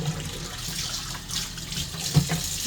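Running tap water pours steadily into a sink as a small oil cup is rinsed, a close, continuous splashing rush with a slight clunk near the end and no speech.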